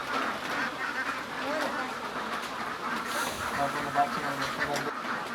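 Khaki Campbell ducks in a shed on a duck farm call in a dense, continuous chorus of quacks and honking cries, with birds both near and farther off and some low background rumble.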